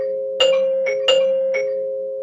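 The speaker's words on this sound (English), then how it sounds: "That's my front doorbell." A doorbell chimes twice in a two-tone ding-dong pattern, clear and fairly loud over a steady background hum.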